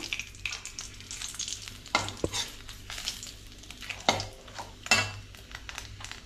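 Bay leaves and dried red chillies sizzle quietly in tempering oil for palak paneer, a soft steady fry broken by a few sharp clinks of a utensil against the pan. No voice is heard.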